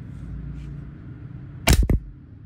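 A WE G17 G3 airsoft pistol, powered up and fired without a suppressor, gives two sharp close cracks in quick succession after a quiet stretch.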